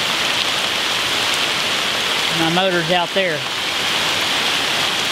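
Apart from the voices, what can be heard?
rain falling outdoors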